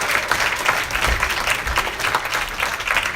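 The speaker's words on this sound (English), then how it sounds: "Let's give her a nice big round of applause as well," Guests at a retirement party applaud in a steady, fairly loud wash of clapping that lasts throughout, with a few low thumps and no speech.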